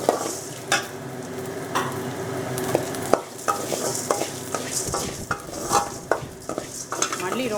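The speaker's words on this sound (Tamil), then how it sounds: "மல்லி ரொம்பவும் வதங்கிட வேண்டாம்" Coriander frying with onions in a pan for a roasted chicken dish, a steady close sizzle broken by repeated scraping and clinking stirs of a utensil against the metal.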